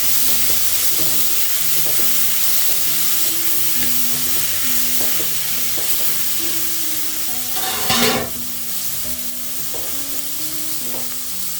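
Potatoes tumbling into a hot pan of oil with turmeric and spices, a steady loud sizzle and frying hiss running throughout, with a brief sharper burst of spitting midway and faint stirring scrapes.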